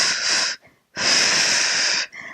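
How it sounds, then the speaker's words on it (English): Two forceful breaths are pushed out during a core-training breathing exercise, each a loud, close, breathy rush, the second longer, separated by a short pause and followed by a softer tail of air. "Inhale just a little. And exhale."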